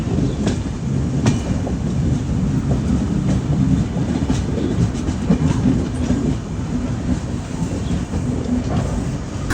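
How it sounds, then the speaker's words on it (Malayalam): Avadh Assam Express running into Lucknow station, a loud continuous rumble with rhythmic clickety-clack of wheels over rail joints and faint squeals, heard from on board with no voices. "നമ്മളങ്ങനെ ലക്നൗ സ്റ്റേഷനിലേക്ക് കയറിക്കൊണ്ടിരിക്കുകയാണ്"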